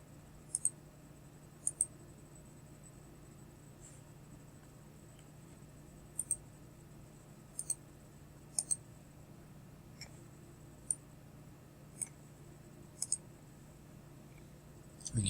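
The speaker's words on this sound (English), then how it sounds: "And click Done." A computer mouse clicks crisply in quiet, mostly in close double clicks, spaced a second or more apart over a faint steady hum.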